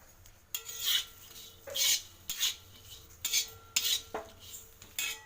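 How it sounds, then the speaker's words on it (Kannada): Okra slices are stir-fried on a tawa, a metal spatula scraping and rasping across the hot pan in about eight rhythmic strokes, close and distinct with no voices. "ಬೆಂಡೆಕಾಯಿ ಸ್ಲೈಸಸ್ ಎಲ್ಲ ಹುರ್ಕೋಬೇಕು ಇದನ್ನು ಎಲ್ಲ ಹೋಗೋವರೆಗೂ ಹುರ್ಕೋಬೇಕು"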